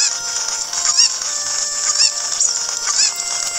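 A cucco from The Legend of Zelda: Ocarina of Time 3DS clucks in short repeated bursts about once a second, loud and clear over a steady game music backdrop.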